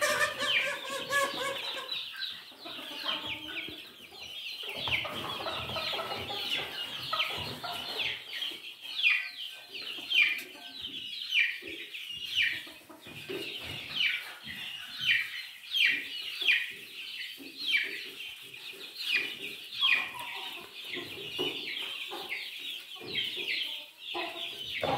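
A rooster and a hen clucking nearby, with persistent raspy calls and squawks layered over one another throughout, fairly loud and close, with no talking.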